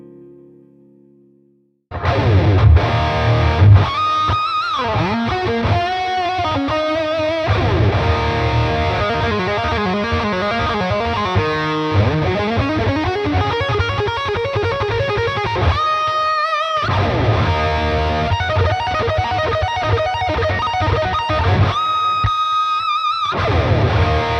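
A heavily distorted electric guitar through a PRS MT15 tube amp plays sustained chords and riffs with thick amp tone, starting after a brief quiet intro and stopping abruptly a few times.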